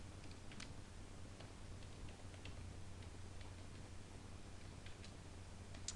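Faint, scattered clicks of typing on a computer keyboard in a quiet room over a low steady hum, soft irregular taps spread across a few seconds.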